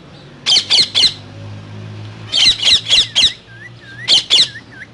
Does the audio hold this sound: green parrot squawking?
yes